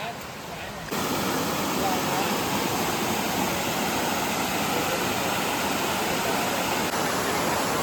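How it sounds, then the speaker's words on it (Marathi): Rushing roar of a hidden waterfall in forest at Poynad, Alibaug, a dense continuous wash of water that jumps louder after the first second and holds steady. "धबधब्याचा आवाजसुद्धा येतो आहे"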